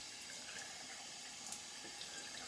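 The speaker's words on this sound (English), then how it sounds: "I'm wetting the face." Tap water runs steadily as it wets a face before a shave, a continuous, even splashing hiss that stays close and unbroken throughout, with no talking.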